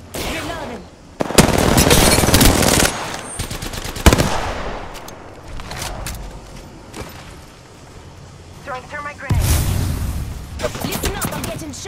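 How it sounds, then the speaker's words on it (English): Video game gunfire in Apex Legends on PC: bursts of rapid automatic fire and sharp single shots in loud clusters, separated by quieter stretches with game voice lines. "I am taking fire, friend."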